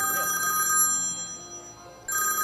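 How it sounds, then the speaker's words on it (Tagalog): A telephone bell rings loudly in a Filipino variety TV comedy segment, a bright rapid trill that cuts out mid-clip and then resumes, with faint studio background underneath. "Nag-ring. Telepono."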